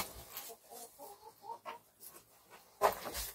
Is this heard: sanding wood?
no